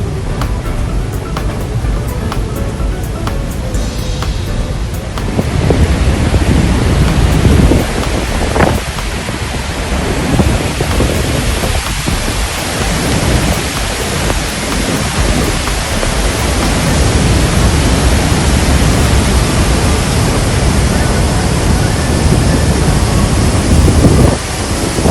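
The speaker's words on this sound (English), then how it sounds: "you can feel the thunderous vibration of the Horseshoe Falls" Roar of Niagara's Horseshoe Falls heard from the observation decks at the foot of the falls: a loud, dense, continuous broadband rush like heavy rain, with gusty surges throughout and no voices.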